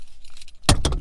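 Keys to a Toyota Tundra jangle as they are pulled out, a quick close metallic rattle in two bursts after near-silence.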